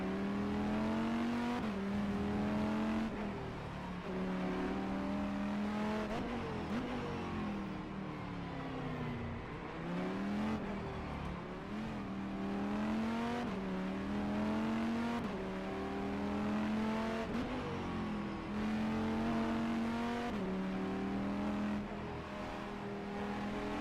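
An EGT race car engine in a racing video game at Estoril drones loudly and continuously for the whole stretch, its pitch climbing and falling through repeated gear shifts and corners with no speech.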